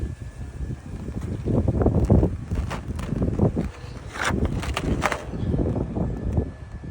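Wind gusts across a beach near a lighthouse station, rumbling and buffeting close to the microphone in uneven surges, with faint background clatter and no voices.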